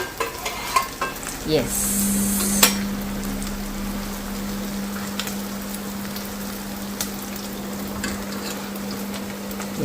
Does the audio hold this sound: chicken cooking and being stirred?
yes